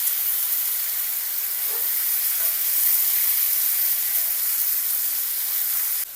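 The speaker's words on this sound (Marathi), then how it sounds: "मटण टाकायचं. मटणाला परतून घ्यायचं छान." Mutton pieces sautéing in a hot pan give off a steady, loud broadband sizzle and hiss that holds evenly throughout, with no voices present.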